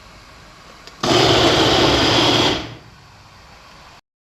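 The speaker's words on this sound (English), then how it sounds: "Okay, I'm gonna blend it now. I'm gonna get my coconut blend up now." A kitchen blender whirs loudly on coconut with okra and oats, starting abruptly, running steady for about a second and a half, then winding down to quiet room tone, with no voice.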